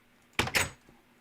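A wooden door being placed in Minecraft gives two quick close knocks in succession, a short hollow clack-clack with nothing else around it.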